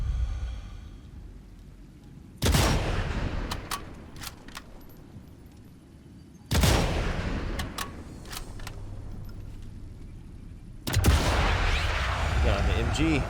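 Three loud, sharp rifle shots from a WW2 sniper rifle in a video game, spaced about four seconds apart, each with a booming echoing tail over quiet ambient background.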